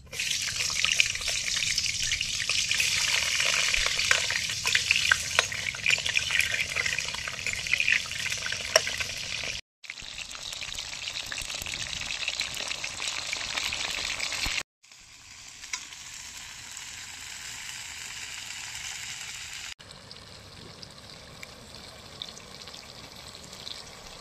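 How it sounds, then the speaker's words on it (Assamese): Pointed gourd (potol) frying in refined oil in a kadai, a loud crackling sizzle that runs on across several cuts, dropping to a gentler bubbling hiss in later sections, with no talk. "প্ৰথমতে মই পটলখিনি ফ্ৰাই কৰি ল'ম"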